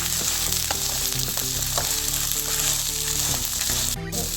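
Tamarind and chopped tomatoes sautéing in a hot pan, a dense, continuous sizzle with a steady frying hiss and occasional stirring sounds, close and fairly loud, with a brief clatter near the end and no speech.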